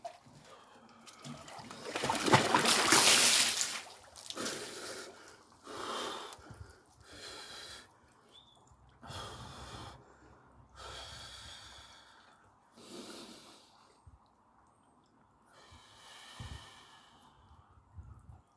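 Heavy, uneven breathing from a person who has just lowered into a cold plunge pool: loud sharp inhales and snorting exhales in irregular bursts, close to the mic, gradually easing toward quieter breaths.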